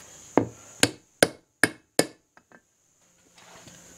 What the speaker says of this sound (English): So I'm just going to drive this in using this real ring gear.